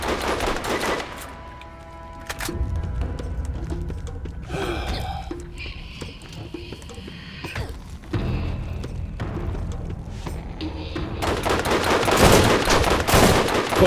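Enemy gunfire in Borderlands, loud bursts of automatic and single shots crackling in clusters at the start and end, with a quieter gap of game sounds and brief effects in between.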